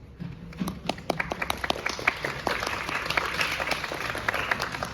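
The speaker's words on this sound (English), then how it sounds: "let's give them a round of applause" An audience at a Web3.0 forum claps together in sustained applause, many hands patting at once, moderately loud and filling the room.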